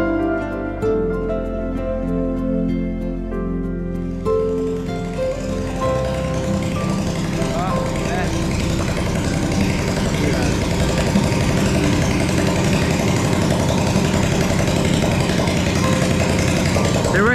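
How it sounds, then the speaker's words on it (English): A motorbike engine runs close by on a street in Zamboanga Sibugay, Philippines, a loud steady drone with a sharper buzzing rise after a few seconds, continuing without pause and with no talk. "Bike over there, so it's a bit loud"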